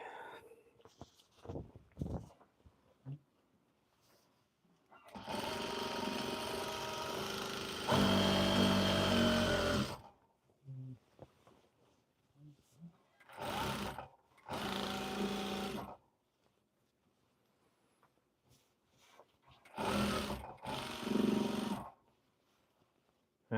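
A sewing machine stitches a blazer sleeve in several close bursts of fast, steady whirring, each lasting a few seconds and separated by quiet pauses with small handling clicks.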